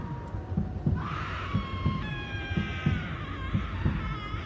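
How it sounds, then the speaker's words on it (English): Eerie, unfamiliar scream in a dark Thomas the Tank Engine fan adaptation, a long wavering high wail rising over a steady thumping, heartbeat-like pulse, loud and alone without speech. "we suddenly hear an unfamiliar scream"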